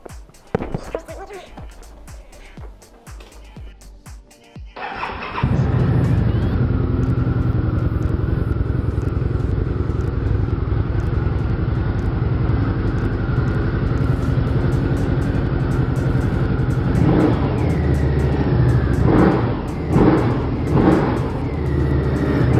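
A 2006 Harley-Davidson V-Rod Street Rod on stock exhaust pipes starts after a few seconds of quieter background and settles into a loud, steady idle, with a few blips of the throttle near the end.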